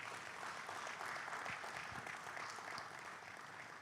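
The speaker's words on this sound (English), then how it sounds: "a big round of applause for Nlng" Audience applause at a book prize longlist party, a steady wash of many hands clapping, fairly distant and even throughout.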